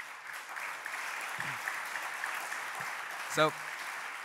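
Audience applause at a Stop the War 20th anniversary event fills the room as a steady, even patter throughout, and a speaker's brief word cuts in near the end.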